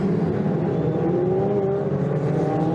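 Ferrari Challenge race cars round a turn at the Mugello circuit, a loud continuous engine drone with pitch sliding upward as they accelerate out of the corner.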